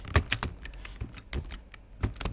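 Typing on a computer keyboard, a few close, sharp key clicks in an irregular sparse pattern over quiet room tone.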